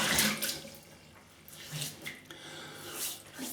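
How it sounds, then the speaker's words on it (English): Water splashes and trickles as a face is wetted before a shave with artisan soap and a vintage Schick razor, a series of close, soft sloshing bursts like water cupped from a running sink. "Wet the face."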